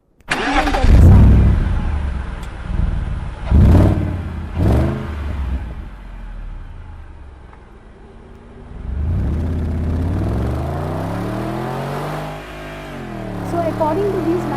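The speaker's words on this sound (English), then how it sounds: "BMW sound" A recorded BMW car engine starts, revs sharply a few times and then settles into a rising and falling mid-pitched hum, loud and close, with rev swells toward the end.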